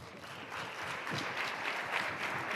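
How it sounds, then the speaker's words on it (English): Brief applause from a summit audience for honored changemakers, a continuous, moderately loud patter of clapping heard alone for a couple of seconds. "Let's give them another round of applause"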